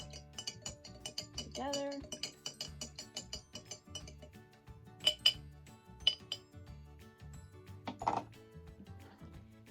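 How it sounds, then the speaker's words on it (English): A metal spoon stirs a few drops into a glass jar, giving scattered bright clinks against the glass that ring out clearly at intervals, with a voice talking softly in the background. "I'm going to take my spoon and I'm just going to stir all of that"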